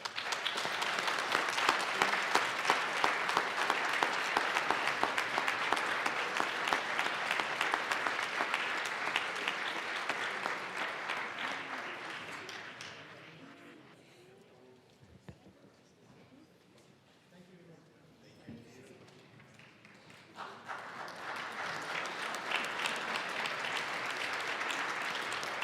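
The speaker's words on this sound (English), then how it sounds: "please join me in giving them another round of applause" Applause fills a state legislative chamber as tribal representatives are escorted out, a dense, steady clapping that fades out midway and then rises again, with some voices underneath.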